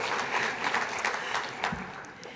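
Audience applause with a few cheers at a disability awareness luncheon, a steady wash of clapping filling the room and holding at moderate loudness throughout.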